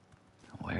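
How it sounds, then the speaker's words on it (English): Footsteps in the online shooter game CRSED come as a few quick soft thuds that grow louder near the end, partly under a voice talking. "I hear the footsteps."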